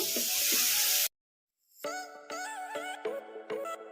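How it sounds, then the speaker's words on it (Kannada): Carrots and tomatoes fry in a pan over a medium flame with a loud close sizzle for about a second, then cut to silence before tonal music takes over. "ಇವನ್ನೆಲ್ಲ ಮೀಡಿಯಂ ಫ್ಲೇಮಲ್ಲೇ ಫ್ರೈ ಮಾಡ್ಕೋಬೇಕು"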